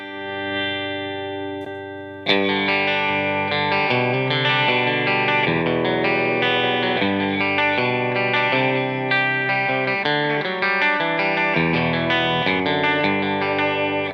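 Fender Jaguar electric guitar picks clean, separated arpeggios with a plucky, short-sustain attack, coloured by effects such as chorus and reverb, ringing continuously and prominently after a brief quieter opening note.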